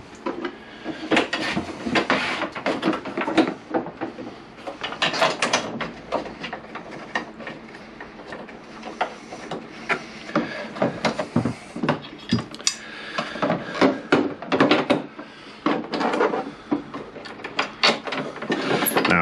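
Bolts being refitted on the rear passenger grab rail of a Peugeot Django scooter, with a steady run of close metallic clicks, clanks and rattles of parts and tools, no talk.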